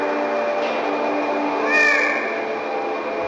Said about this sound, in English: This is Boombah, the mutant cat